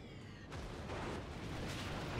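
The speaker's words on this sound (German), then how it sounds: "Es kommen überall die Schüsse." Naval gunfire in the video game World of Warships produces a dense, rumbling barrage of booms and blasts that stays continuous across a short stretch, fairly quiet overall.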